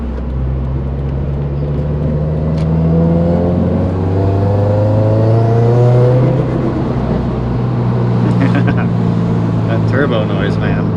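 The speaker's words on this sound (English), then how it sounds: "That turbo noise, man." Subaru WRX STI with an EG33 engine accelerating through gears, its loud, close drone climbing and dropping in pitch, with turbo whistle and rattles toward the end while someone talks over it.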